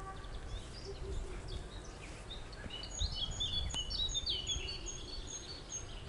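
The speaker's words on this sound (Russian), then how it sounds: "Птицы поют прям." Faint birdsong in a damp larch forest ravine after rain, scattered chirps and short song phrases at a distance over a quiet outdoor background.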